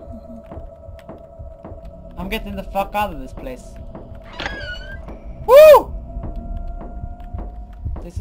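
A slow, steady heartbeat throbs through the heartbeat room of the video game No Escape, a low pulsing under a constant hum, while someone talks loudly over it and one sharp tonal sound cuts in near the end.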